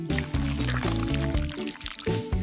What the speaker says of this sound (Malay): Letak di dalam cawan.